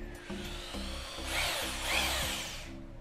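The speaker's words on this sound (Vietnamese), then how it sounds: "Thử chức năng khoan thường trước nha anh em." A Japanese 100V hammer drill runs in plain drilling mode with a steady motor whine. The pitch surges and eases as the trigger is feathered, with light rhythmic pulses underneath, heard close and with no talking.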